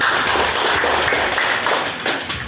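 A classroom applauds after a group presentation, a brief, dense burst of many hands clapping close by for a couple of seconds.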